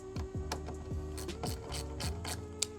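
Ratchet wrench snugging down a car battery terminal on a 5th Gen 4Runner, with repeated quick clicking strokes and short pauses between pulls, close and clear with no talking.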